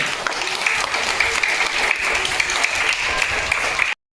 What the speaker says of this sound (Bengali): হাততালি দাও জোরে